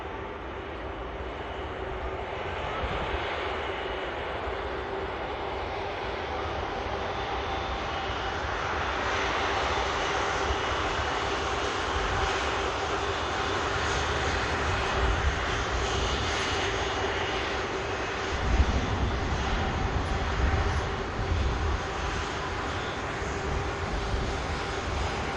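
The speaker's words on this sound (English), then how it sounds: "Here goes the Virgin Atlantic." Virgin Atlantic airliner at Manchester Airport, a sustained loud jet engine roar holding steady and swelling slightly throughout, with no speech.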